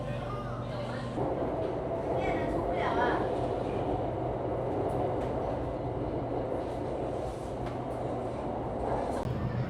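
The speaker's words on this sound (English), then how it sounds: "whenever I can, I take the subway instead." A steady rumbling roar of a moving subway train in China fills the space, with faint rattles and a murmur of voices underneath.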